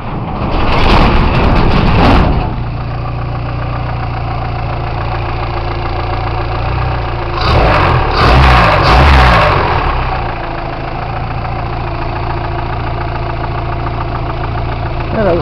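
A warmed-up Shadow car engine idles steadily with a low rumble, swelling louder twice in short revs.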